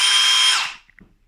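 Bosch GSB 18V-150C Biturbo cordless impact drill running at high speed with a loud steady whine for about half a second, then winding down and stopping, followed by a couple of faint clicks.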